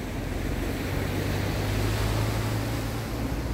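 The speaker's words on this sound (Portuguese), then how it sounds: "Olha a força aqui da água." Rain-swollen water pours down from rocks into a stream at a beach after a storm, a steady, loud, unbroken roar with no talking.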